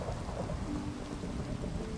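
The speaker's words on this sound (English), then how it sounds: "Our first thunderstorm on this world," Steady rain with low rumbling thunder during a Minecraft thunderstorm, a dense continuous wash of noise with deep rolling rumble underneath, even and unbroken throughout.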